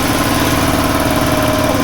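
An engine-driven machine running to power a chipping hammer during floor tile and screed demolition, a loud, close, steady mechanical chugging idle with a buzzy vibration and no talking.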